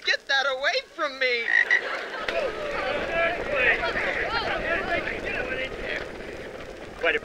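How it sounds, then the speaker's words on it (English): Dense chorus of many frogs croaking continuously in a wet outdoor setting, loud and close, with a voice speaking briefly at the start over the calls. "Man's got a lot of frogs, you know."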